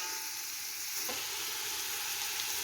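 Onion, green chili and rock salt frying in a pan, a dense, even hiss of sizzling oil heard up close with no pauses, broken once by a faint stir.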